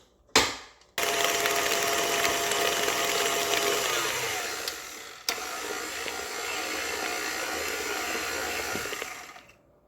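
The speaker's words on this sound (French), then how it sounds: "I'm gonna mix it a few more minutes." An electric hand mixer whips French buttercream in a bowl, a steady loud whirring buzz running nearly ten seconds after a brief start, easing slightly in pitch midway with a short clatter, then stopping.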